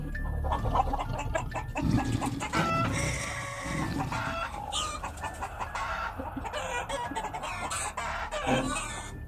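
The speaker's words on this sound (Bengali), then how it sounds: "মুরগিগুলো এরম ভাবে ডাকছে কেন?" Chickens clucking and squawking in agitated bursts at night, with a rooster-like call among them, fairly close and continuous with no talking.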